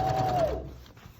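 A sewing machine stitches along a napkin seam in a short, steady mechanical whir that fades slightly toward the end.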